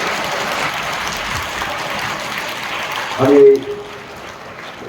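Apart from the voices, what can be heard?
children applauding for teachers at school sports event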